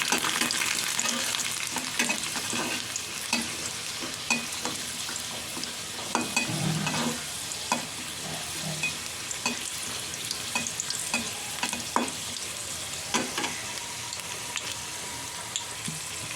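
Dried red and green chilies with garlic fry in hot oil, a continuous crackling sizzle punctuated by irregular clinks and scrapes of stirring, with no talk.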